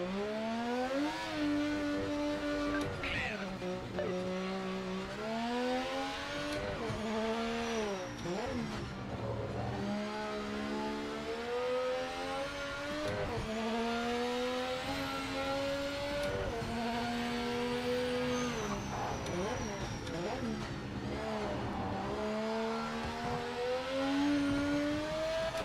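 Race car engine in the Project Motor Racing video game revving hard toward 9,000 RPM, rising and falling harmonic whine through repeated gear changes, loud and continuous for the full length with no talk.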